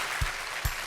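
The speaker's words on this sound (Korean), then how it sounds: "큰 박수 부탁드릴게요" A brief wash of audience applause, steady and fairly quiet, with two low thumps.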